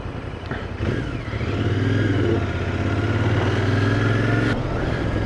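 A 2019 Royal Enfield Interceptor 650 parallel-twin motorcycle is ridden, its engine throbbing steadily and rising as it pulls, close and fairly loud, with wind rush over the microphone.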